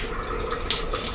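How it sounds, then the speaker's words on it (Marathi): Hot water pouring steadily from the tap of a newly installed electric water heater, a continuous close splashing hiss with small surges and no talk. "गरम पाणी येते छान"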